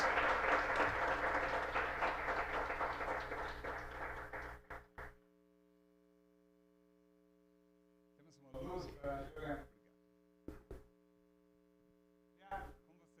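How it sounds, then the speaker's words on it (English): Audience applause for guests at a project results event, a loud burst of clapping in the first few seconds that fades away, then silence with mains hum and brief snatches of talk. "A round of applause for our guests."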